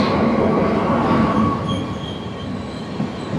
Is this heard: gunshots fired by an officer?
no